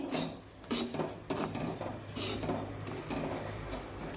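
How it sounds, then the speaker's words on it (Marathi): A spoon scrapes and rubs through homemade besan (gram flour) roasting in a pan for besan ladoo, with repeated rasping strokes in an uneven rhythm, close and fairly quiet. "आता हे बेसन पीठ आपल्याला तोपर्यंत हलवून घेत राहायचं आहे जोपर्यंत या पिठाला छान सोनेरी रंग येत नाही"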